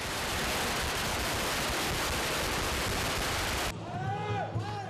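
Loud firecrackers burst in a dense, continuous crackling roar as a palanquin carrying a deity enters a temple procession in Taiwan, then cut off abruptly by a quieter, calmer scene.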